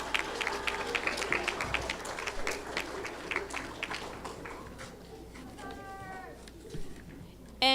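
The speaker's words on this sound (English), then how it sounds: "Give him a round of applause." Audience at a school fourth-grade awards ceremony clapping in a loose, scattered burst that thins out over several seconds, moderately distant, with some voices and room noise mixed in.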